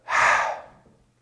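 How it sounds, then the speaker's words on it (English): A single slow, deep breath drawn in, airy and close, swelling quickly then fading out over about a second. "taking a nice deep breath in"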